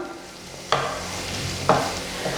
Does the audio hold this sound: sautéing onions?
yes